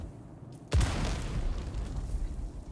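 A bomb goes off in the video game Dune Awakening: one sudden loud boom with a deep low thud, followed by a long rumbling roar that trails on for a couple of seconds without any talk.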